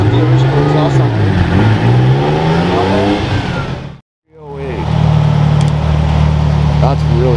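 A Ferrari Dino 308 engine with its original exhaust revs loud and close in rising and falling sweeps, cuts out briefly, then settles into a steady, throaty drone.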